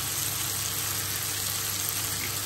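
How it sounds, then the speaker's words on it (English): Garlic hits a hot pan of mushrooms, a steady, even sizzle and hiss with no talk over it. "So I'm just gonna add my garlic in now."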